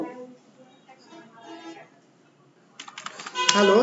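Quick bursts of keystrokes on a computer keyboard, close and crisp, starting near the end after a stretch of someone talking quietly.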